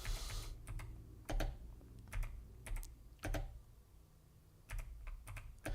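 Keys on an Apple IIGS computer keyboard clack in irregular bursts while Tetris is played, sharp close presses separated by short pauses over a low steady hum.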